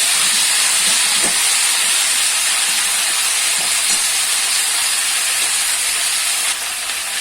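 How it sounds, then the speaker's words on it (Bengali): Mixed vegetables sauté in a pan for khichdi, a loud, constant bright hiss and sizzle with a few faint knocks beneath, steady throughout. "এবার আমি সমস্ত আনাজগুলো এর মধ্যে দিয়ে দেবো দিয়ে এগুলো একটু সটে করে নেবো"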